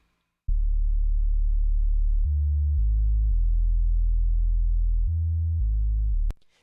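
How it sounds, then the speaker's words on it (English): A deep, buzzy synth bass tone plays alone, stepping through a few sustained notes with a gritty, distorted edge, then stops abruptly. "First, distortion. That's going to give us some nice overtones for texture."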